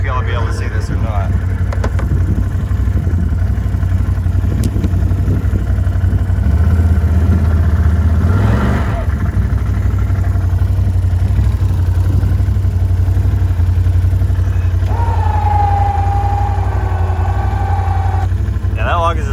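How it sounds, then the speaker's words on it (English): A Can-Am four-wheeler with its new winch running while the machine is in reverse, a loud steady engine drone with a rising whine partway through and a motor tone near the end, someone talking over it. "Let me see what happens if I put it in reverse and then activate the winch."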